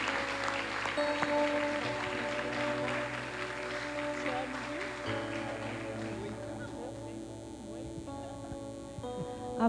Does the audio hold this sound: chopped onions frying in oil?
no